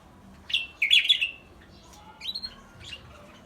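Canaries and other birds in a sanctuary give a few short, shrill squawks and chirps in two brief bursts against a quiet background.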